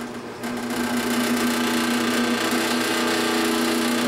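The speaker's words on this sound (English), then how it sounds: "So I'm going to drill these out." A drill fitted with a 5/8-inch Forstner bit boring into wood whirs steadily at high speed with a constant motor drone, loud and close, running without pause.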